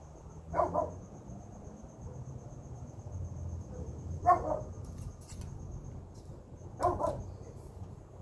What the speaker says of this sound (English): And that is my dog Snickers.